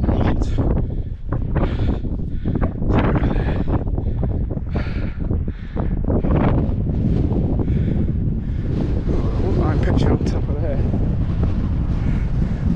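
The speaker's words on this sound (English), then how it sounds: "Wind's got up about 20 mile an hour." Strong wind gusting on a hilltop in the Cumbria dales, a loud, continuous buffeting roar over the microphone.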